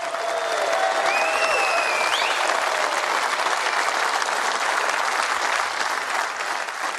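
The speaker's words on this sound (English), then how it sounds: "may we have another round of applause for 2 of the all-time greats" Applause for the two snooker finalists at the British Open final between Mark Selby and Mark Williams, a sustained, even roar of clapping from the arena crowd with a few whistles rising over it early on.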